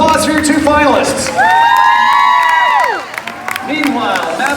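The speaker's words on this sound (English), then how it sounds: "One more round of applause for your 2 finalists." A live Fear Factor stage show audience cheers and claps for two finalists, while a loud rising and falling tonal sweep, like a siren or music effect, dominates the middle and crowd noise returns at the close.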